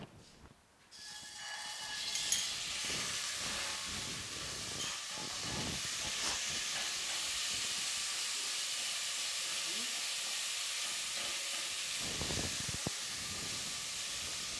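Garlic dropped into hot oil while cooking pork, a loud sudden sizzle that settles into a steady close hiss lasting throughout, with no talk.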